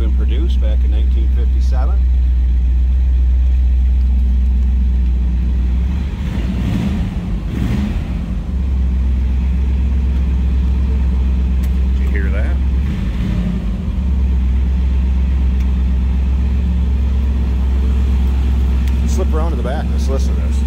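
A fuel-injected 1957 Chevrolet 210 engine idles with a deep steady rumble, close and loud, briefly revving a couple of times while someone talks over it.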